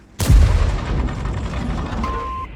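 Vz. 55 tank gun firing in World of Tanks, a single loud close boom that rolls into a long fading echo, followed by a short beep tone.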